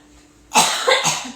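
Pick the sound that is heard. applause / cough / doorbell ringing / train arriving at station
cough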